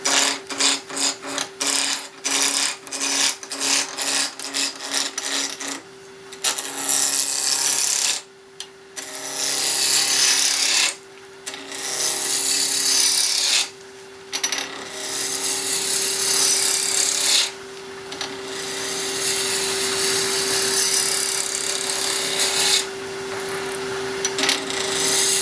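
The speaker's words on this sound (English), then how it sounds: "we're going to go ahead and round this off with spindle roughing gouge" Wood lathe spinning near 2,000 rpm while a spindle roughing gouge rounds a small supported angel ornament blank: loud, continuous scraping and cutting hiss with a steady motor hum, broken by brief pauses between passes.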